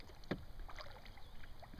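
A boat is paddled gently across a pond in Maine, with one soft splashing stroke close by, then quiet water drips and light wind noise.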